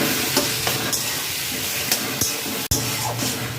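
Taro greens with hilsa fish head stirred in a pan over a high gas flame, steady sizzling and hissing with scraping strokes of a spoon, close and continuous, one sharp knock partway through.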